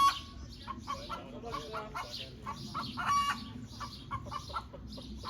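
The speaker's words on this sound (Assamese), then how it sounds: "জাৰ্মান মুৰ্গী কুকুৰা মই জাৰ্মানীত এইটো শব্দ শুনিম বুলি কেতিয়াও ভবা নাছিলোঁ" German chickens cluck repeatedly at an open-air museum farm in Franconia, a steady stream of short, fairly close calls from several birds over low background noise, with one brief higher squawk partway through.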